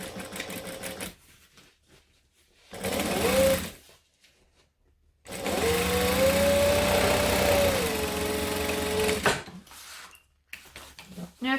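Sewing machine stitching bag sides to a back panel, running in two bursts, a short one and then a longer steady whirring run, separated by quiet handling noises.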